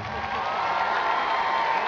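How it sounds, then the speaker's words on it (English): Audience applauding and cheering for a dance studio troupe at a live show, a steady dense burst of clapping and whoops heard from a distance. "Give them a big round of applause"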